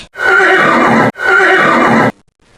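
A horse neighs twice in quick succession, loud and close, each whinny about a second long, followed by silence.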